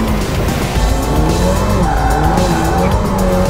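A 2020 Ferrari F8 Tributo with roughly 700 horsepower drifts hard, its tires squealing continuously over a loud, steady engine roar from close by, with no talking.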